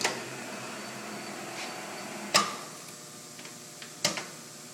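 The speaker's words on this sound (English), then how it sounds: "He's feeding it longitudinally. Feed across, Angel." A Takisawa/Yuasa 14x40 engine lathe runs with its feed engaged, giving a steady mechanical hum broken by two sharp, close clacks.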